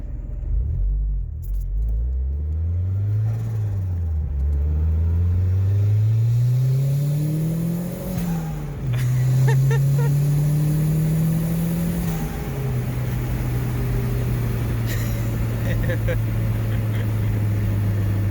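A turbocharged Toyota MR2 SW20 pulls hard from inside the cabin, the engine note climbing and dipping through gear changes while the turbo spools up, with people talking briefly over the rising drone.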